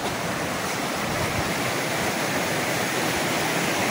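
A river flows right beside a rice field in the Indonesian countryside, a steady, even rushing of water with no breaks and no voices.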